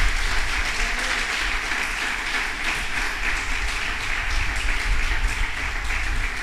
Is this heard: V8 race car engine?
no